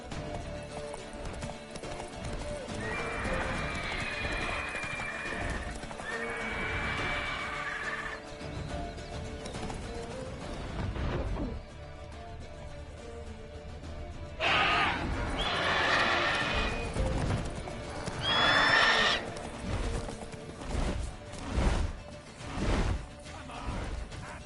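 Geralt's horse Roach gallops in The Witcher 3 video game, with rhythmic clip-clopping hoofbeats throughout and several loud, close whinnies rising over the running.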